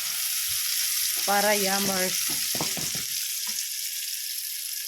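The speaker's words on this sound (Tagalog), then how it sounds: "Dito na tayo magisa ng sibuyas" Steady loud sizzling of onions sautéing in a frying pan, with a person briefly speaking over it.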